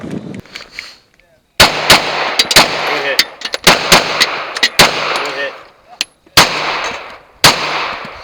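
Shotgun blasts fired on a woods stage of a 3-gun competition, about eight sharp, loud, close reports at irregular intervals with brief pauses between bursts, ringing against background noise.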